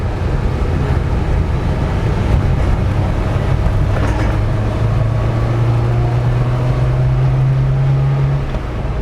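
Small GME Rascal engine revving under load while driving through tight curves, a steady loud drone with rising pitch that climbs toward high revs, cabin noise throughout and no talk.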